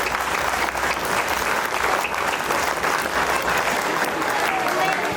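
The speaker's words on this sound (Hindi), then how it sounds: "सबको ताली बजानी चाहिए यहाँ के बच्चों के लिए है।" Students at a school applaud together in a steady, dense wash of clapping that stays loud and unbroken for the whole stretch, with no voices standing out above it.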